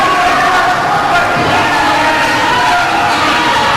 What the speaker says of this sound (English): the people want to cheer for the hometown team as they take on the visitors from Florida